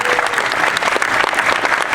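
A packed studio audience at a cast and creator Q&A breaks into a short, loud, dense round of applause.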